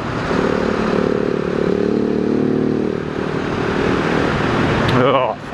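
A 2018 Husqvarna 701 supermoto motorcycle engine runs steadily at a constant drone, loud and close as the bike rides along, with wind noise, before the sound suddenly drops away at the end; a person talks over it.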